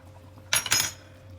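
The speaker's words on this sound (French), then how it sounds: "Je mélange et je couvre." A brief clatter of a utensil or lid against a pot of cauliflower soup, two quick metallic clinks close by, then quiet.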